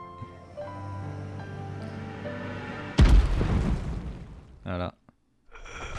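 A small firecracker goes off in the Final Fantasy XV video game as one sudden loud bang, followed by a rumbling decay over a musical background and then a brief tonal blip.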